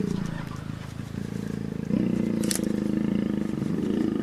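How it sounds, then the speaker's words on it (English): Lions roaring while mating, a sustained low rumbling growl that swells louder partway through and continues steadily, close and loud, with a brief sharper cry in the middle. "So this is the sound of lions mating."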